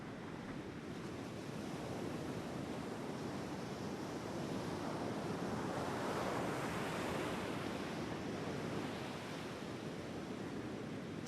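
Steady ocean surf rolls in with gusting wind on Cassino beach, a broad continuous roar that swells slightly midway and stays close and unbroken, with no voices.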